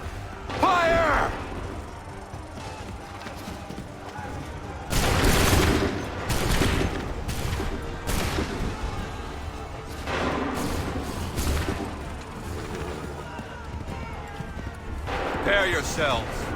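Musket volleys ring out in Assassin's Creed 3, several loud, broad cracking bursts of massed gunfire in quick clusters, with shouted voices and battle noise around them.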